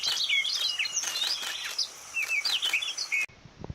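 A grey-throated babbler sings in a forest in Arunachal Pradesh, with rapid, bright warbling phrases repeating for about three seconds, fairly close and clear over a faint background, before cutting off abruptly.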